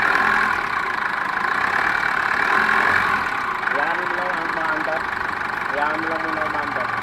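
Foton Thunder pickup with a 2.8 Cummins diesel idling steadily up close, a continuous rumbling drone with people talking over it.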